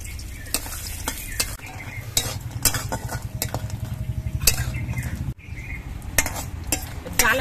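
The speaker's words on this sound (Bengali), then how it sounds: "সেই জন্য আমি ডালের বড়িগুলো ভেজে নিচ্ছি।" Lentil dumplings (dal bori) fry in mustard oil in a wok with a loud continuous crackling sizzle, punctuated by sharp metal spatula clinks and scrapes against the pan.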